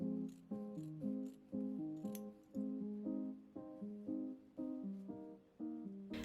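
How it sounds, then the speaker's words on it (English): Scissors snip rhythmically through holographic pinstripe fabric with mesh, about a dozen close, crisp cuts in a steady repeating pattern in a quiet studio. "a lot of cutouts that I have to be very careful not to cut through the mesh as well."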